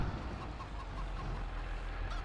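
Chickens clucking in the video game Farming Simulator 25, a few soft, scattered clucks over a steady low farmyard hum, quiet and without talk.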